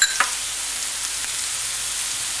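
Two tablespoons of mushroom stock hitting a hot pan while cooking spinach-stuffed mushroom fritters give a soft, steady sizzle. The hiss follows a brief clink at the start and stays faint and even throughout, with no talking.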